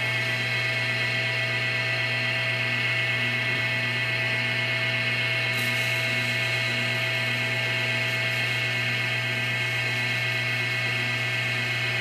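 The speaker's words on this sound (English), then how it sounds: "we're going to start off, as per usual, with our first micro-meshing grit and get rolling." A lathe spins a cracked pen under repair while the first micro-mesh grit sands it, giving a constant high motor whine with a steady hiss of abrasion, loud and unbroken.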